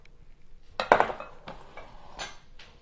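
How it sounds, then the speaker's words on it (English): A bowl slid across a kitchen counter: a short grinding scrape with a clink, followed by a couple of lighter knocks and taps, close and fairly quiet. "let me pull this bowl over here so you can see better"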